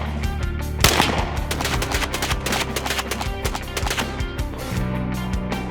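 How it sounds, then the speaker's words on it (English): A .45 caliber Tommy gun fires rapid automatic bursts at close range, loud overlapping shots with sharp echoes filling the whole stretch. "Tommy gun."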